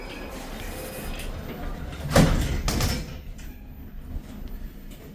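Lift doors at Cabot Place, Canary Wharf sliding shut, a soft rolling slide ending in a muffled thud, heard fairly close over low background hum.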